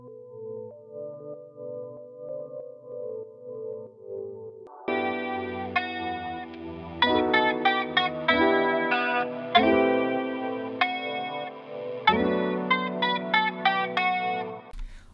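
A clean, chorus-soaked electric guitar loop starts soft and low, then brighter plucked phrases repeat in a relaxed rhythm with echoing effects.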